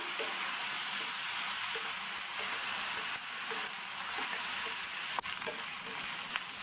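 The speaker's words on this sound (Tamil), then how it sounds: "இது கூட க்ளீன் பண்ணி வாஷ் பண்ண காலிஃப்ளவரை சேர்த்து இந்த எண்ணெயிலேயே 1 நிமிஷம் போல் வதக்கி விட்டுக்கணும்" Cauliflower florets with onion sautéing in oil in a pan, giving a steady, close, even sizzle and crackle with faint stirring scrapes throughout and no talking.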